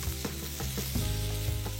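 Two tomatoes go into a pan of fried, translucent onions and sizzle steadily, with soft scraping stir strokes repeating at a regular rhythm close by.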